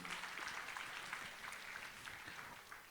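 Applause from an audience for composer Ashok Patki, a dense, even wash of many hands clapping held steady from start to finish at a moderate level.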